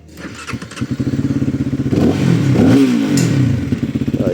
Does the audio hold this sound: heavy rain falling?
no